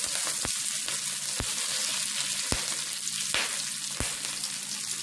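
Curry leaves frying in hot oil with mustard seeds and sliced shallots, a constant loud sizzle punctuated by sharp pops and crackles every second or so, close up with no speech.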